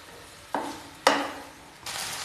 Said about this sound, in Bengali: এবার দিয়ে দিচ্ছি ভেজে রাখা আলু, মিশিয়ে নেব।